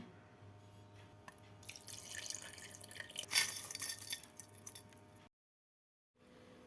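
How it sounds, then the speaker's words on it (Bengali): Milk is poured into boiled rice for date jaggery payesh, a faint trickling and splashing pour that builds for a few seconds, then cuts off abruptly, leaving quiet room tone. "এখন আমি এগুলার মধ্যে দুধ দিব, খেজুরের গুড় দিব।"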